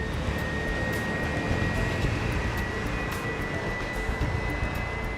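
An Air Canada passenger airplane's jet engines give a steady, broad roar with a faint high whine above it, constant and unbroken throughout.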